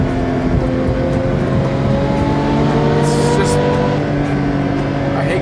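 A Porsche 911 reimagined by Singer, with a manual transmission, drones loudly from up close, the engine note steady and sustained throughout under a continuous hum of road and cabin noise, with someone talking over it.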